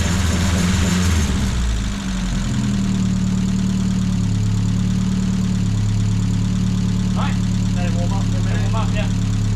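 Rover K-Series engine in a Classic Mini running steadily at idle after a coil pack lead was reconnected, a loud, even mid and low hum with faint voices briefly over it near the end.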